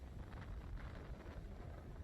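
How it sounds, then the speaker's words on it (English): Strong wind on a beach on Jupiter Island, Hobe Sound, roaring steadily and buffeting the microphone, faint and unbroken throughout. "Very, very windy."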